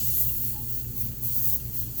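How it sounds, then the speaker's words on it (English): A paint spray gun hisses in a short continuous burst while test-spraying light yellow paint for a Harley, a steady close airy spray under a low hum. "make sure this is spraying"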